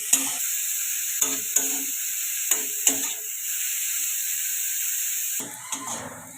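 Beetroot and carrot pieces lightly fried in a pan for vegetarian khichdi, a steady hiss of sizzling oil punctuated by several sharp spatula knocks and stirring scrapes, then a brief rustle near the end.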